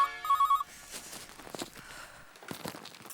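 A telephone rings briefly with a few short electronic pulses. Soft rustling and shuffling footsteps follow in a quiet indoor room.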